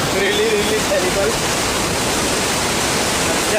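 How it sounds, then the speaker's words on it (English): Dassam waterfall in Jharkhand pours and splashes in a loud, steady roar of rushing water that fills the whole stretch without a break, heard up close. "Yeah, so just heading down and the splashes of water is really terrible."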